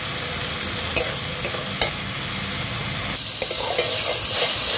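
Spices with turmeric and salt fry on a low flame for potato curry, a steady close sizzle with a few sharp stirring taps and scrapes of the spatula.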